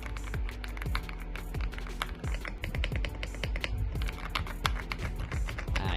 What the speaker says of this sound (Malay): And this is the sound test for the keyboard.